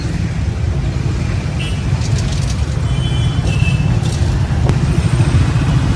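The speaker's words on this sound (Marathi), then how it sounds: "बघा इकडं फुल ट्रॅफिक असते" Heavy evening road traffic in Bangalore forms a dense, continuous roar of cars, trucks and buses passing close by, loud and unbroken, with a brief hiss that sounds like an air brake.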